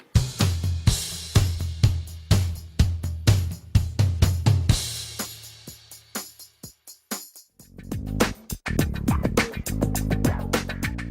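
A music mix passage with punchy drums, thinned by a high-pass filter into bright, percussive hits, thinning out to sparse beats before full bass and instruments return for the transition into a break before the third chorus.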